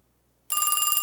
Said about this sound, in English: Get away from that phone, Alice.